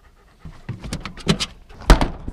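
A dog pants in rapid, breathy bursts at close range at the start of a snowy hike, with a few louder huffs and a sharper thump near the end.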